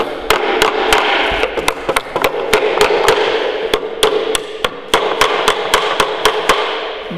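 Galvanized nails are hammered into a wooden beehive lid in quick, sharp strikes, close and regular, about a dozen and a half blows in a steady rhythm.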